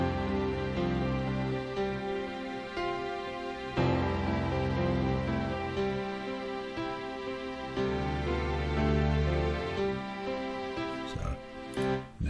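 A generated chord progression with its phrase shortened to fit ten bars, sustained harmonic chords changing every couple of seconds in a steady, moderately quiet loop, with no voice over it.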